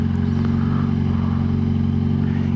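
A motorcycle engine idling close by on a city street, a loud, constant low rumble with a fine rapid pulse and no speech over it.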